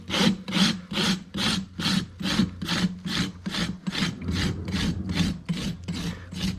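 A rasp files the toe of a horse's hoof back to a bevel during shoeing after laminitis: about a dozen steady, rhythmic rasping strokes, close and clear, with no talk.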